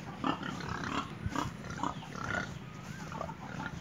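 Several pigs on a farm, a mixed group of males and females penned behind a fence, grunt in short repeated bursts over steady low background noise, at moderate loudness and fairly close.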